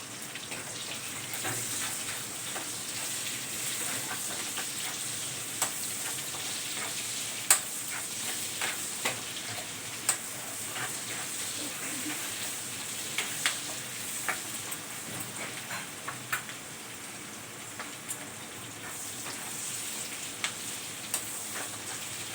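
Onions sautéing in a hot pan for chicken liver adobo, a steady sizzle with occasional stirring clicks and spatula scrapes, close and continuous with no talking.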